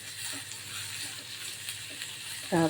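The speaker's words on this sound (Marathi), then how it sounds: "पाच सहा पानं मी कढीपत्त्याची घालत आहे कांदा छान मऊ करून घ्यायचा आपल्याला तेलामध्ये" Chopped onion and five or six curry leaves frying in oil while poha is made, a steady close sizzle throughout that swells into a louder, brighter burst of crackling at the very end.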